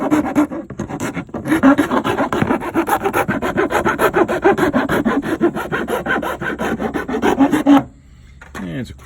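A hand file rasps back and forth against the fog light mounting hole on a 1997-2001 Jeep Cherokee XJ, making rapid rhythmic scraping strokes up close and stopping near the end.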